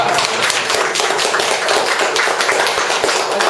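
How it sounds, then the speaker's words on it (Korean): An audience at a lecture claps in a steady, dense round of applause, many hands patting together close by without pause for the whole stretch. "박수 좀 쳐주세요."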